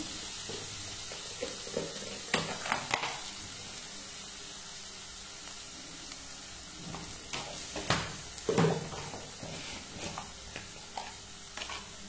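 Seasoning for lemon rice sizzles softly in a pan as turmeric is added, with intermittent stirring and scraping over a quiet, steady frying hiss.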